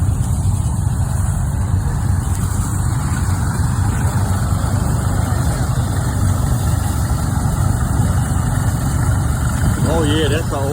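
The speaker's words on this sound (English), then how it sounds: "Oh yeah, that's an old McCormick Farmall tractor. Pulling that one." An old McCormick Farmall tractor engine rumbles under load at a vintage machinery show, a steady low chugging drone throughout with chatter and crowd noise mixed in.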